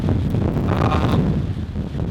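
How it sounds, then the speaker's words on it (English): Strong wind of around 40 miles an hour buffets the microphone in a steady, loud roar with gusty low rumbling throughout. "It is super windy out."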